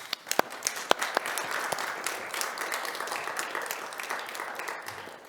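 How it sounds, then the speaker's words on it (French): Audience applause at a conference, a few sharp early claps swelling into steady, even clapping that continues for several seconds at moderate volume. "Il mérite qu'on l'applaudisse."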